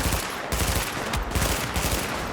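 Rapid automatic gunfire in Tom Clancy's The Division, a loud, dense burst of shots with a few tiny breaks, close and continuous across the whole stretch.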